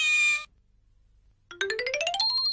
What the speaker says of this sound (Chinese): 还有 小猫